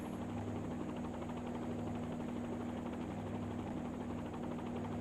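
A simulated helicopter hover-taxis to parking in a flight simulator video game, giving a steady, continuous rotor and turbine drone with a constant low hum and no speech.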